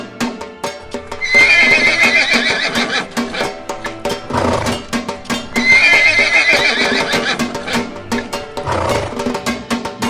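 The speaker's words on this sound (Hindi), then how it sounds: "दूर से घोड़े की गर्जना गूंजती है।" Horse neighing loudly in a cartoon story, with clip-clopping hooves beneath; two long whinnies rise and fade over a steady rhythmic backdrop of hoof beats and dramatic sound.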